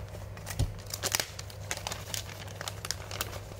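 Crinkly plastic packaging around a small electronics component, likely a Hirose connector, is handled and opened close by in a string of sharp crackling bursts with no talking.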